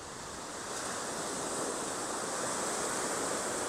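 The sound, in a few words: waves at the beach of Vista Sol, Bavaro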